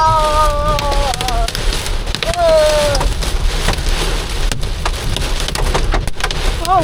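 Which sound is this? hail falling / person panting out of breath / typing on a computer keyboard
hail falling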